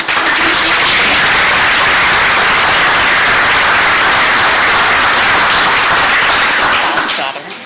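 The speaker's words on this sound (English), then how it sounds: "if we could just give the students a round of applause" Loud, dense applause from an audience at a school board meeting honoring students, sustained clapping filling the room steadily before tapering off at the end.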